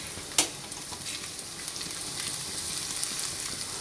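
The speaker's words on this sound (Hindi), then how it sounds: "जब ये लहसुन हल्की सी सौते हो जाए तो फिर इसमें ये एग डालेंगे" Eggs fry alongside lightly sautéed garlic in a pan, giving a soft, continuous sizzle after one sharp tap at the start.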